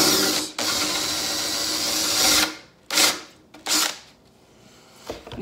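A power drill bores through a 1/4-inch board, a loud close whirring burst for about two seconds, followed by several shorter on-off spurts of the motor with quiet gaps between.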